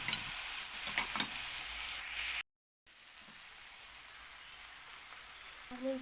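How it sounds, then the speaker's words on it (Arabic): Browned meat and sauce sizzle and hiss loudly in a hot pan for a meat-and-dough tagine, a steady close frying crackle with stirring scrapes, broken by one brief silent gap. "هننزل بقى باللحمة اللي شوحناها وخدت اللون الجميل، وهننزل بالصوص كله"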